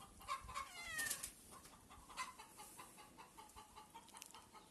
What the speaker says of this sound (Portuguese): Ó, a galinha tá botando.